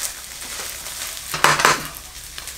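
Wet egg fried rice being stirred in a hot pan, a soft sizzle under a couple of brief, close scraping and rustling bursts of the utensil moving through the rice.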